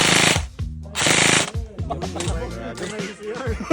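An X-Shot toy blaster fires two loud, short bursts close by, and people talk through and after the shots.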